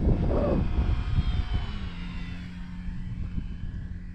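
A small twin-motor X-Fly Twin Nova 1400mm RC foam plane's electric motors whine steadily at a distance in a crosswind, pitch settling into a constant drone over faint wind noise.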